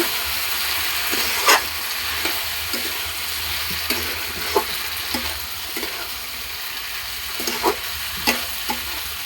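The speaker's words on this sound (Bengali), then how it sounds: "সামান্য নাড়াচাড়া করে সামান্য পরিমাণে জল দিয়ে দিব" A baby chilli dish sizzles and simmers in a pan with a little water, a constant hissing fry punctuated by regular scraping stirs and light utensil taps, close and without talk.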